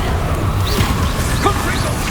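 A Confringo blasting spell from Hogwarts Legacy bursts amid game combat, with a loud crash and whooshing effects over dense, busy battle noise and background voices.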